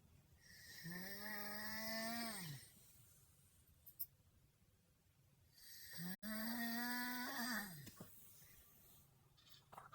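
Person snoring nearby indoors, two long rasping inhaled snores several seconds apart with quiet breathing between them.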